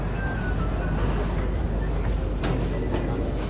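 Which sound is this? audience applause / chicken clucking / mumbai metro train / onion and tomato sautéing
mumbai metro train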